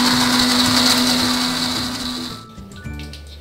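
An electric blender grinds a spice paste for East Javanese telur petis, a steady loud whirring drone that cuts off abruptly after about two and a half seconds, leaving quieter clatter.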